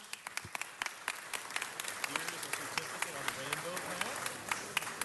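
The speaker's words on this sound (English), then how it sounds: "let's give her another round of applause" Audience applause at a Los Angeles City Council presentation, a soft, steady patter of many hands heard from a distance, with a few sharper claps standing out and murmured voices beneath.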